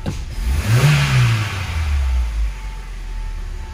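A Citroën car engine revs up hard with a thin squeal from the drive belt riding over it, then eases back toward idle. The sound is close and there is no talking.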